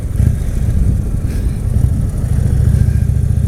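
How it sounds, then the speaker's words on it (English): A motorcycle engine idles steadily close by, a low continuous rumble with a fast, even ticking from the lifters and valve rocker arms running through it. "the only thing that I can hear on this motor is the lifters. I can hear the valve rocker arms."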